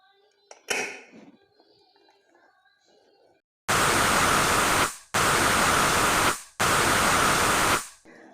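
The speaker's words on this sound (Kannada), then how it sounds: "ಮೂರು ಬಿಗಿಲಾಯಿತು ಕುಕ್ಕರಲ್ಲಿ." A pressure cooker holding vegetable aloo biryani vents steam in three loud, evenly spaced hissing bursts, each lasting over a second, after some faint kitchen clatter.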